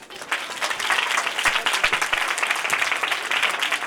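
Audience applause at a church Sunday school programme, a dense burst of clapping from the gathered crowd, fairly loud and continuous with faint voices mixed in.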